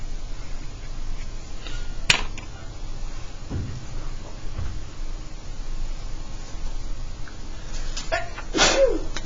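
A single sharp sneeze bursts out in a classroom during a trigonometry lesson, with a quieter second sneeze-like burst a few seconds later over faint room noise.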